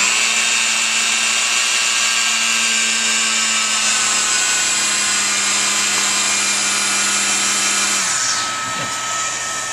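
An HSK plastic extruder runs steadily with a constant motor whine and high-pitched hiss while welding rod is fed in, holding one even level before the tone shifts and drops near the end.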